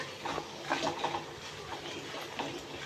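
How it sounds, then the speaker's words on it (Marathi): Spices with a little turmeric being sautéed in a pan for dal: soft, close stirring scrapes and light clinks of a spoon against the pan, with a faint sizzle underneath. "छान मसाले परतून घ्यायचे"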